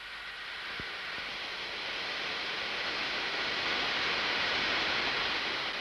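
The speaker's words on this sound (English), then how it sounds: "When the compressed air jet is turned on," A compressed air jet blows from a nozzle with a steady, broad hiss that builds slightly in strength and holds without a break.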